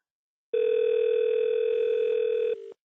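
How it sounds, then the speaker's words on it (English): A telephone tone sounds during an inConcert call-center training session as an incoming call arrives: one steady, loud electronic tone holds for about two seconds, then drops briefly to a quieter pitch before cutting off. "why is my phone ringing?"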